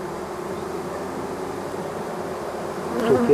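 Honeybees buzz in a dense, steady drone at an open hive packed with bees, close and continuous, swelling slightly louder toward the end.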